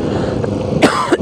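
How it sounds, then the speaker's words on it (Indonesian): A rider on a motorcycle at night on a city road in Balikpapan gives a short, harsh cough in two quick bursts near the end, over a steady rumbling engine and wind noise. "Batuk. Sorry."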